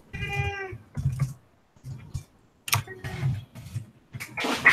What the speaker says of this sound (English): That was my dog chasing my cat.